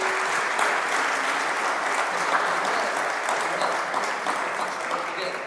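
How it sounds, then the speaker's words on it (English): Sustained applause from a conference audience for a panel on decarbonized, resilient road infrastructure, dense even clapping filling the room from start to finish and slowly tapering at the end. "I ask you to join me in a round of applause for these excellent panelists"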